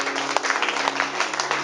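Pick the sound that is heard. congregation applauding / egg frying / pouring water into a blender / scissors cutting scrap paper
congregation applauding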